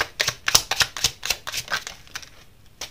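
Tarot cards are drawn and laid down, making a quick rapid series of crisp snapping and flicking sounds, close and clear, that thin out into a few scattered taps.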